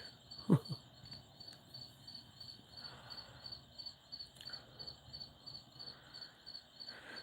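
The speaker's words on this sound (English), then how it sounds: "Ah, the crickets. I gotta love the crickets." Crickets chirp steadily in a quiet night setting during a lunar eclipse, a high pulsing trill repeating evenly, with a brief soft knock near the start.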